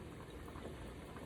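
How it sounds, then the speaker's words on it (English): Water boiling in a pot on a stove while Spanish rice is being prepared, a steady close bubbling hiss that holds evenly throughout the short stretch with no talk. "so my water's come to a boil"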